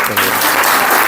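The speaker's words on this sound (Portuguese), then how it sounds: "Uma salva de palmas" Loud applause bursts from an audience during a school training session, a close, dense patter of clapping that swells suddenly, with a brief spoken word near the start.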